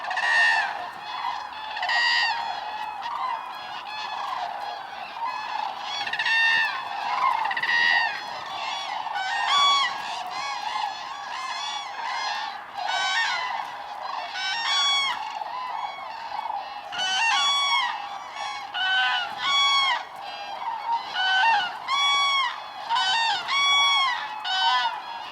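Cranes call on a riverbank of the Loire during a migration rest stop, a dense, continuous chorus of loud trumpeting, honking calls from many birds overlapping throughout.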